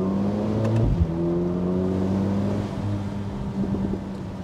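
Four-cylinder engine of a 2023 Mercedes-AMG SL43 heard from inside the cabin, a steady loud drone with rising and falling rev tones and a brief spike near one second, no talk.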